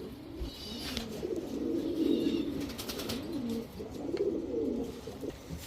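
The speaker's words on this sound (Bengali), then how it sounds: "যারা শখের বসে দেখতে সুন্দর কবুতর নিতে চান, বিগ সাইজের কবুতর নিতে চান" A pair of large black Gorra pigeons, male and female, coo in low rolling repeated calls close by, with faint chirps in the background.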